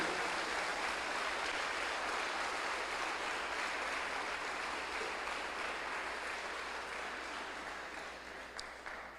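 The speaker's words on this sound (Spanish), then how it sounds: "Denle un aplauso a Jesús en esta mañana" A church congregation applauding, a dense steady wash of many hands clapping at a moderate distance that slowly fades toward the end.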